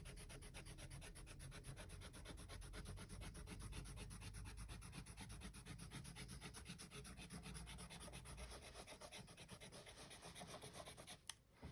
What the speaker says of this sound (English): I'm going to do another layer of go over with the eraser, this time with my Seed Slendy Plus.